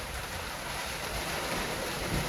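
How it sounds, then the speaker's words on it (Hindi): Heavy storm rain pouring onto a mud house, a dense, continuous hiss of falling water that stays loud and even throughout, with no voices over it. "चेक करें, इस वक्त तूफ़ानी बारिश जो है वो स्टार्ट हो चुकी है।"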